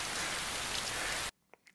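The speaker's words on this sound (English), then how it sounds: "Yo, this rain." Rain pours down in a steady, dense hiss that fills the first second and a half, then cuts off abruptly, leaving near silence with a couple of faint ticks.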